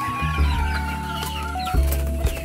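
Chickens cluck busily while being fed, several birds at close range making overlapping throaty clucks and murmurs throughout, with no talk.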